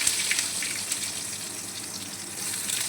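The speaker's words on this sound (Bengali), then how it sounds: "একটু পেঁয়াজগুলো লাল লাল করে ভেজে নিই" Chopped onions, with dried red chillies added, frying in hot oil in a pan, giving a steady close sizzle and hiss throughout with no talking.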